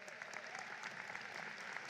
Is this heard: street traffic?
no